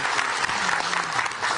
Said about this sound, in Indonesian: Tepuk tangan jamaah.